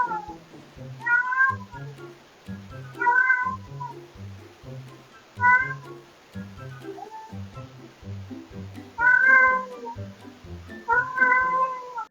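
A neighbourhood community cat meows loudly and clearly in about five separate bursts, some doubled, over a steady, softer rhythmic thumping in the background.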